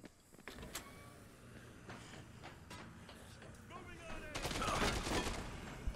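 Gunfire in the zombie game Dead Rising 2: Case West, scattered sharp shots spaced through the moment and then a denser burst of rapid fire near the end, with a person talking over it.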